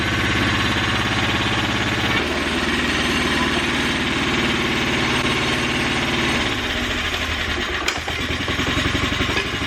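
A small racing kart engine, a Stock 120, runs loud and close at a fast buzzing idle with rattling clatter, dropping in pitch partway through and stumbling briefly near the end before carrying on.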